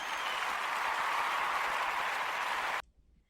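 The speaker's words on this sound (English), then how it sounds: "let me give you a round of applause so you can feel welcome" Dense, steady round of applause at even loudness, like a canned welcome effect, cutting off abruptly near the end into near silence.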